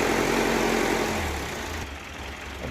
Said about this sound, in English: Now with the engine back together and a fair amount of time spent bleeding the fuel system, we were able to get the engine up and running.